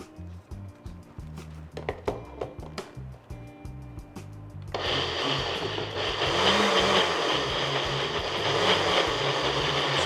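A blender pulses chimichurri sauce made with oil, starting with short pulsing bursts before settling into a loud, steady whir that runs continuously to the end.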